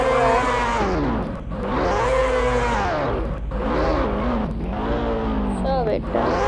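A racing motorbike roars close by at speed, its engine note repeatedly climbing and falling in loud, continuous revving sweeps.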